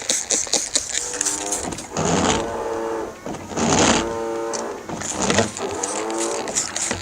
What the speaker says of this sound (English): Okay, so the mist is kind of weak, which usually means it's the washer motor.